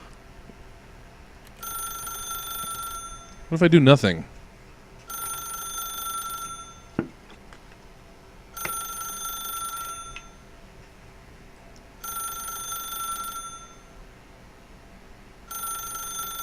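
A telephone rings in the video game The Stanley Parable, repeating in bursts of about a second and a half with short pauses. Someone speaks briefly over one ring, and a loud rustle and a few clicks come between rings.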